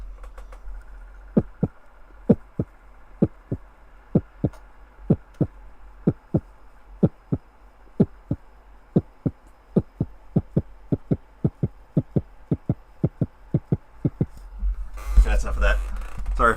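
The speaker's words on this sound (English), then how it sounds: "Yeah, it's my heartbeat sound." A heartbeat-like thumping made by handling a microphone, a long series of soft, low pulses in a steady but slightly uneven rhythm, close up, ending in a burst of rustling handling noise.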